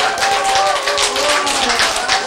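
Audience clapping hands in a lecture hall, dense steady applause throughout, close and loud.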